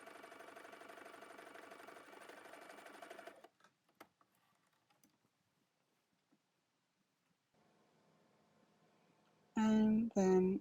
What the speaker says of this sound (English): sewing buttonholes.